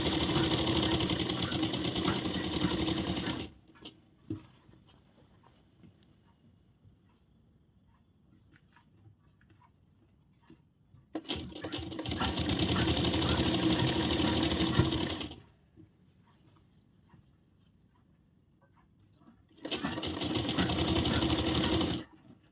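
Sewing machine stitching a princess-cut blouse, running in three separate bursts of steady, loud mechanical whirring with quiet pauses between them.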